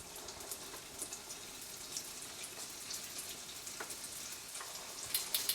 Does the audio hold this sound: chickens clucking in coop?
no